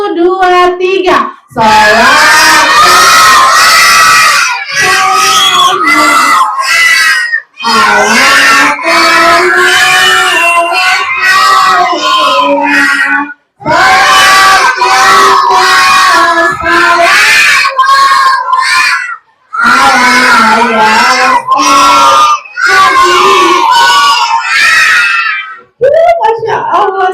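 A group of children shout and scream as loudly as they can in a contest, long sustained bursts near and very loud, broken by short pauses between rounds.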